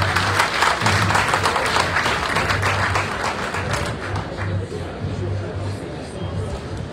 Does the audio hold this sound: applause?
yes